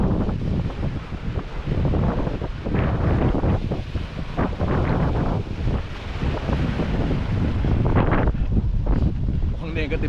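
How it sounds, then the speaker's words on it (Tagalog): Strong gusting wind buffets the microphone at the end of a seaside fishing spot, with waves surging and crashing close by in a steady, loud roar that lasts the whole stretch. "Lakas ng alon, lakas ng hangin."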